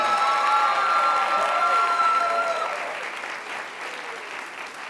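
An audience at an athletics awards event gives a warm round of applause for track and field and cross country coaches, steady and full at first, then thinning and fading toward the end, with scattered cheers.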